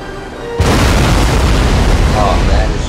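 Ship cannons fire in a Spanish-versus-French naval battle in Napoleon: Total War: a sudden heavy boom bursts in after a quiet start and rolls on as a loud, sustained rumble of gunfire.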